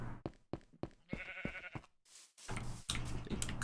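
Sheep bleating in the Minecraft video game, a wavering mid-pitched bleat heard among short clicky game sounds and a burst of louder game noise, with no voices.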